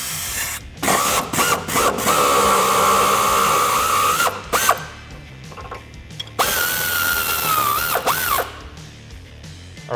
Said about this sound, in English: now we're gonna be removing the lower nut for the sway bar end link